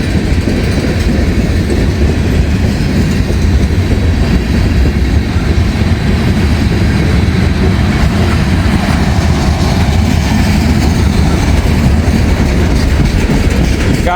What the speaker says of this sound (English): Got ourselves a big old train here.